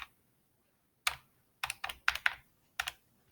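Several sharp key presses on a handheld calculator keypad while working a logarithm problem, coming as an isolated tap, then a quick cluster of five or six clicks and one more, close and clear against near silence.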